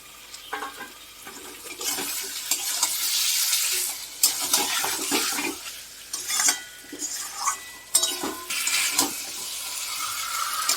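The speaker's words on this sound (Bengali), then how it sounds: "দিয়ে দিচ্ছি এবার ম্যারিনেট করা মাংস।" Marinated chicken pieces hit a pan of spice masala for a spinach chicken curry, giving a steady hiss of frying broken by scraping, stirring strokes with a spoon, with no talk.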